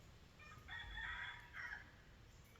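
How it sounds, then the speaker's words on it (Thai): A rooster crows once in the distance, a faint drawn-out call over a quiet outdoor background at a rural garden home. "เสียงจากธรรมชาติค่ะไก่ขัน"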